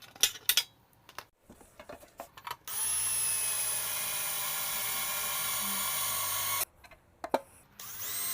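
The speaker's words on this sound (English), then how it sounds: "these little arms and stuff have to be drilled out as well" A power drill bores out the small metal arms of an antique rusty tackle box, a steady high whine lasting about four seconds between clinks and handling noises of metal parts.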